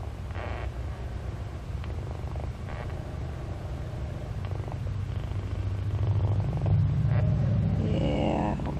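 A cat purring with odd, rumbling noises up close, a steady low throaty purr that swells louder toward the end, with no talking.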